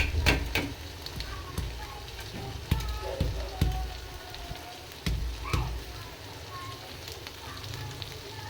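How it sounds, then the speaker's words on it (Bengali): Polao rice fries in a pot with a steady crackling sizzle, punctuated by sharp scraping and clanks of stirring at a moderate level. "চালটা ভালো করে কষাবো"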